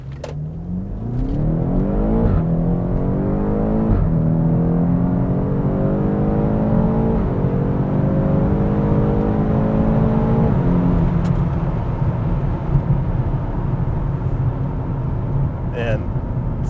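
A stage 1 tuned BMW X5 M F85 in Sport Plus mode accelerates hard, the engine pitch rising steadily through several quick gear shifts, loud and continuous from inside the cabin.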